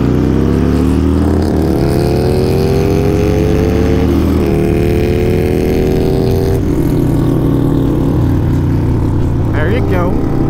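A Harley-Davidson 1200 S&S Hooligan motorcycle accelerating through gears, its loud, close engine note climbing in pitch with brief drops at each shift, while people talk over it.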